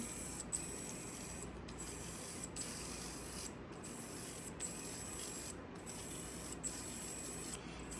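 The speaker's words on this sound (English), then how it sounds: "So here, as you can see, the motor is rotating." A small brushless motor driven by an ESP32 spins with a faint, steady mechanical whir and regular soft ticking pulses about once a second, quiet and close with no talk.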